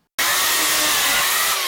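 Chainsaw with a freshly oiled chain starts and runs loud and steady at high revs, a continuous close whine and buzz throughout.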